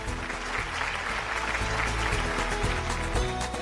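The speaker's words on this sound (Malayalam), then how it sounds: "നല്ലൊരു കയ്യടി" A crowd applauds steadily for a young singer called up at a Malayalam stage show, the clapping dense and sustained throughout, with faint background music underneath.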